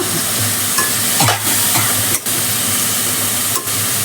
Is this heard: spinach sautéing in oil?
yes